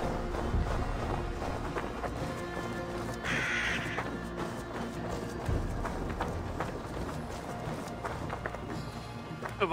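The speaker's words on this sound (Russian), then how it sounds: "Дом множества птиц." Crows caw over the White Cliffs of Dover in Assassin's Creed Valhalla, a short burst of calls amid busy game ambience with running footsteps and hoofbeats.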